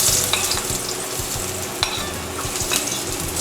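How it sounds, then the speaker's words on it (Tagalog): Garlic and onion sautéing in a pan while a Filipino pork dish such as menudo or afritada is cooked, with a steady close sizzle, stirring scrapes and a few sharp clinks of the utensil against the pan. "So, gisa muna tayo ng bawang sibuyas."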